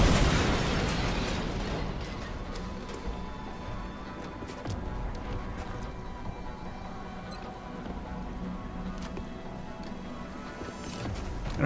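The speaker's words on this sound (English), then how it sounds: "I don't use these smoke grenades very often" A smoke grenade launched in XCOM: Enemy Within, an opening burst followed by a steady rumbling hiss and scattered crackles and pops that hold at an even level for several seconds.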